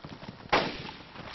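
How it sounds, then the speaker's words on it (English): A single sharp gunshot in the video game DayZ, a sudden loud crack partway through that decays over a moment against a low rumbling background. "Whoa, whoa, stop shooting!"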